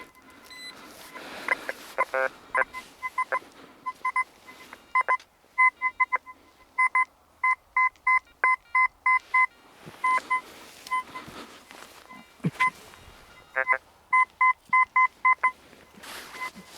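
A metal detector beeps rapidly in repeated bursts while hunting for coins in a field, some short and clipped, others longer, against a quiet outdoor background.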